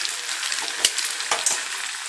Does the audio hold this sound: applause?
no